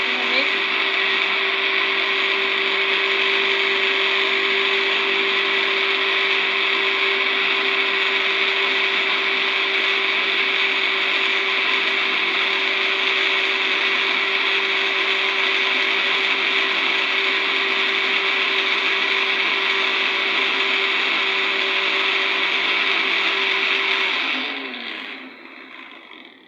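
Electric blender churning cream with cold water into butter, a steady loud mechanical whir running evenly for about 24 seconds before winding down at the end.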